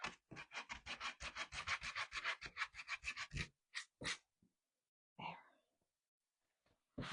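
Sanding a decoupage craft project by hand with sandpaper, a rapid run of close, rhythmic rasping strokes, then a pause and a few isolated scrapes, with no talk.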